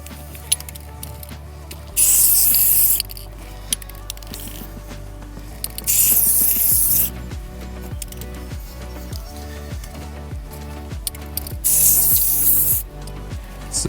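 Bursts of spray waterproofing hiss onto a building foundation wall at a construction site, three loud steady blasts of about a second each, separated by quieter stretches of clattering site noise and machinery.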